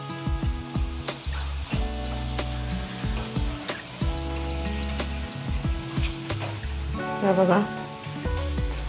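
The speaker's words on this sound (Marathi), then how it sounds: "तेल थोडे जास्त घाला तळायला" Chakli frying in plenty of hot oil with a continuous sizzle beneath a woman's speech; a rise of bubbling and crackling comes near the end.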